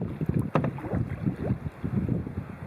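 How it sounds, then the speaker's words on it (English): Steady wind noise buffets a canoe on North Hegman Lake in the Boundary Waters near Ely, Minnesota, with low rumbling gusts and faint paddle and water sounds throughout, close and continuous. "The wind's picking up a bit."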